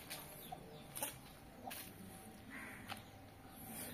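Chickens on a farm cluck and call in short, scattered bursts at moderate distance, over a quiet outdoor background with occasional sharper peeps and no talking.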